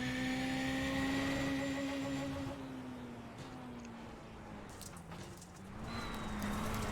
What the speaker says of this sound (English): You can hear that throttle with him, too.